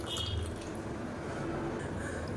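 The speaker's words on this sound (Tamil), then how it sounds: "இப்போ மிக்சியில் இருந்து அலசிட்டு அந்த தண்ணியை சேர்த்துக்கிறேன்." Rinse water from a mixie jar pours into ground Mappillai Samba rice dosa batter, a faint, steady wet trickle and dripping running for a couple of seconds with no voices.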